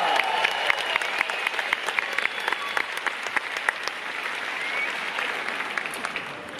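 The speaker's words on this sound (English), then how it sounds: "Give a big round of applause to our lady dancers in the choir." Steady applause from a concert audience at a choir show honoring dancers, dense continuous clapping throughout with music tones faintly beneath.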